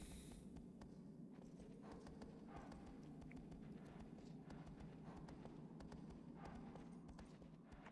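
A big horse in Shadow of the Colossus on PlayStation 2 gallops with a rapid, even clip-clop of hooves that runs throughout, low in level over a steady ambient rumble.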